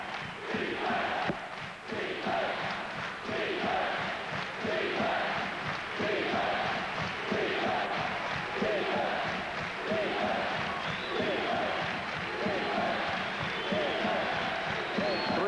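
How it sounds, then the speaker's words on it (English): Packed arena crowd at a 1984 Michigan Wolverines vs Illinois Fighting Illini college basketball game in the fourth overtime, chanting and roaring for defense in a loud, sustained, rhythmic wall of voices. "the crowd really into this one, shouting the defense."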